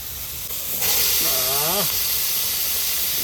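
Marinated duck meat dropped into a hot pan of fried spices, bursting into a loud steady sizzle that hisses on and persists, with a brief whistling tone partway through.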